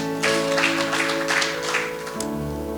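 A church congregation claps for God during a sermon, a steady wash of applause over sustained keyboard chords that carry on after the clapping fades out near the end.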